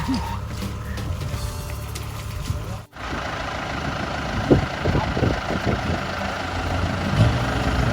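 A rice combine harvester stuck in mud idles with a loud, steady low engine rumble, close by, with brief mechanical clanks over it and no speech.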